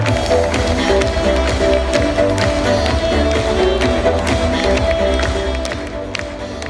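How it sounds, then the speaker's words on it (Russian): Audience applause fills a hall as jury members are introduced at a university beauty pageant, a dense, steady wash of clapping with crowd murmur that eases off slightly toward the end. "Ваши аплодисменты."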